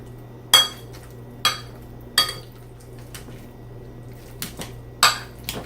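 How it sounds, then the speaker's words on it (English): A potato masher mashes avocados for homemade guacamole, striking the bottom of the bowl in sharp, spaced knocks. About six clinks come at an uneven pace, with soft squishing between them in an otherwise quiet room. "mash this with a potato masher"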